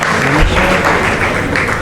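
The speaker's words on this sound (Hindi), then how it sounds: "ताली बजा दीजिए थोड़ा सा" Audience applause at an awards ceremony, a steady wash of clapping that stays loud for the whole two seconds with some voices mixed in.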